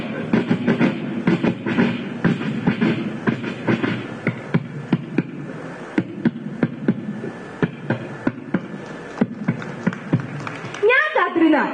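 At a school arts-festival mimicry competition, a performer vocally imitates a train with a steady rumbling roll punctuated by rhythmic clicking beats, ending with a brief whistle-like cry.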